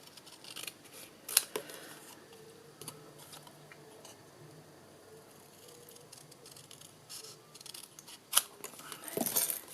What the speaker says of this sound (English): I'm going to be brave and I'm going to just cut this by eye